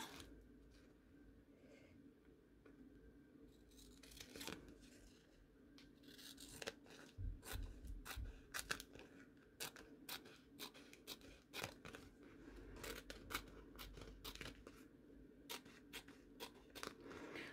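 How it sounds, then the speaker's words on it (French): Scissors snip through excess paper around a handmade miniature ruler for sewing patterns, making repeated crisp cuts and rustles that grow busier halfway through, fairly close but moderately quiet. "Maintenant, on va couper ce qui dépasse."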